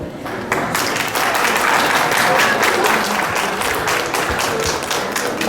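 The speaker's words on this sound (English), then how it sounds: "please give a big welcome, a round of applause to welcome them" A crowd at a Montgomery County Korean Day event applauds steadily to welcome a group of elderly mothers onto the stage, dense, sustained clapping from a large audience that stays loud throughout.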